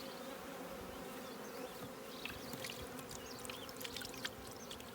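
Honey bees buzz around a sugar water feeder, a continuous faint swarm hum with close individual bees passing by.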